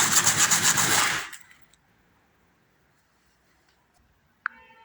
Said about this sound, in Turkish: En ince zımparalardan zımpara yapıyoruz.